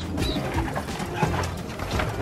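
A pigeon coos softly and close by in a short, faint series of low throaty calls over light background noise.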